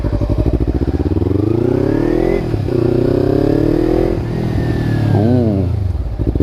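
Loud and near, a Kawasaki Ninja 300 fitted with an Akrapovic exhaust revs hard, the engine climbing and holding high twice with a brief dip between, then wavering through quick throttle blips before easing down.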